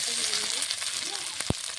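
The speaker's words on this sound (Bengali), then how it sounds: "গাজরটা ভেজে নেব।" Carrot frying in oil makes a continuous close sizzle, with a single sharp tap near the end.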